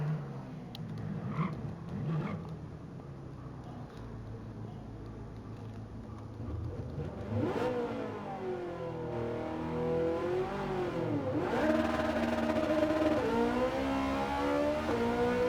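A race car engine in Gran Turismo 7 revs up and down repeatedly, rising in pitch through gear shifts, growing louder and more sustained toward the end.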